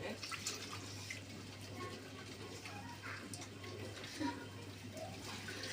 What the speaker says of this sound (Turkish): Tuzla el yıkayacağım şimdi.